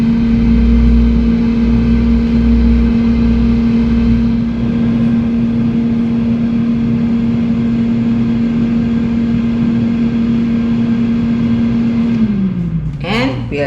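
An air fryer runs steadily while crab sticks cook at 160 degrees, giving a constant mechanical hum with a fan whir that holds level for about twelve seconds, then winds down and dips in pitch near the end.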